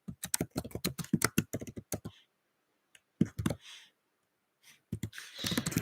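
Rapid keystrokes on a computer keyboard while writing, bursts of close clicking taps separated by short pauses, with no talk over them.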